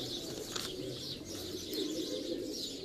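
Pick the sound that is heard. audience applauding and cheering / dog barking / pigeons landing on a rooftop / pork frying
pigeons landing on a rooftop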